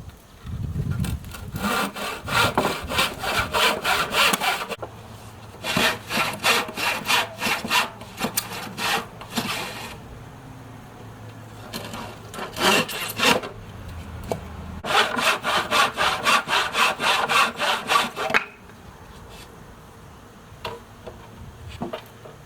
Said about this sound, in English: I'll just use a handsaw.